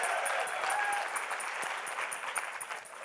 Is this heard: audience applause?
yes